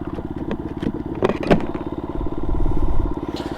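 Small motorcycle engine idling while stopped, a steady close putter with a few clattering knocks and a slight swell in revs partway through.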